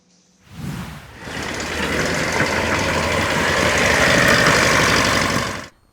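An old repaired motorcycle engine idles steadily and loudly up close for several seconds, its low rumble starting after a brief lead-in and holding a constant throbbing note until it cuts off.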